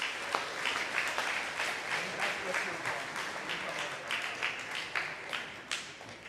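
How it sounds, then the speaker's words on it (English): Audience clapping for winter sports coaches at a school athletic awards ceremony, a steady patter of many hands across the room with scattered sharper claps, continuing evenly throughout. "Let's clap it up for our winter coaches."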